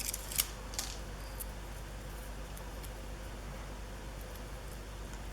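Scissors trim excess paper with a few faint snips near the start, then a quiet hiss of room noise with no voices.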